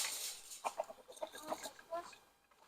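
Chickens clucking close by in a series of short, uneven clucks, with faint background noise between them.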